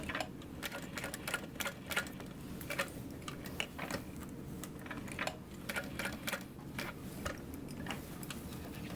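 A sewing machine stitches a bag made as a backpack, running in quick bursts of rapid mechanical clicking with short pauses between, close and alone.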